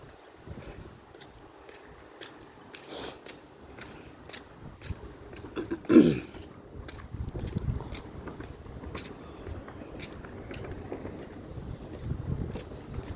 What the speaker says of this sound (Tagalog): Maalon, mahangin.